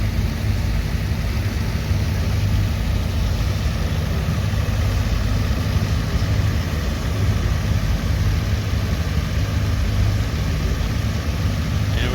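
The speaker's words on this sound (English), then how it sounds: "we've got 12 running tractors here" Several International Harvester tractors idle and run together at a field demonstration day, a steady, loud low engine drone that holds level without pause from start to end.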